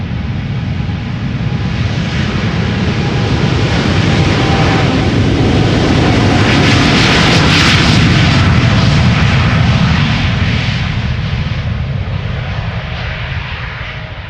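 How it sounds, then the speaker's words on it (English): A KLM Boeing 787-10 Dreamliner's jet engines roar loud and close at Amsterdam Schiphol, a broad sustained rush that swells to a peak midway and then slowly eases. "Going to LAX, this is KLM flight 601. 787-10 Dreamliner."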